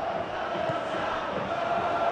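Stadium crowd in eFootball PES 2021 applauding a substituted player during a Champions League match between Atletico Madrid and Inter, a continuous broad roar of cheering and clapping at steady volume.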